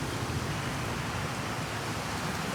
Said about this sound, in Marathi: थोडा पाऊस पडतो